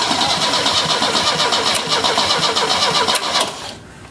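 An Opel GT engine, not started in 30 years, cranks steadily with a rhythmic starter churn and sputters as if trying to catch, loud and close, then fades out at the end.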